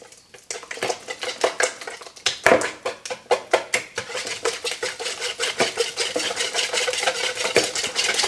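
A whisk beats bread dough ingredients in a bowl with quick, steady clinks and scrapes against the sides, close and fairly loud for the whole stretch.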